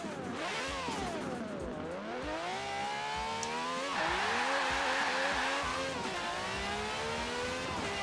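A car launches hard from a standstill in Forza Horizon 4, its engine revving up through rising, shifting pitches while the tires squeal loudly, continuous and close, with no talking.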